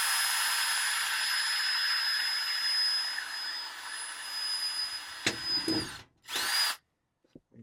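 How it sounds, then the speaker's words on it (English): A power drill bores a hole through sheet metal on kitchen exhaust ductwork. It makes a steady high whine for about five seconds, then comes short bursts and stops, and the clip ends in near silence. "I'm going to drill a hole through the sheet metal"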